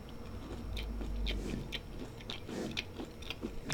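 Close, wet chewing of ginger chews and cookies, a run of soft crunches and mouth clicks in an uneven rhythm, fairly quiet and with no talking.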